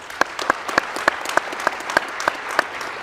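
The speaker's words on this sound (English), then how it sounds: "Let's give them a round of applause." Applause from a crowd at a high school football banquet, with steady rhythmic clapping in which sharp individual hand claps stand out at close range over a softer mass of hands.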